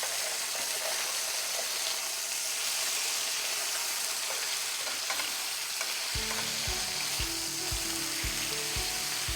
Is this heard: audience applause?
no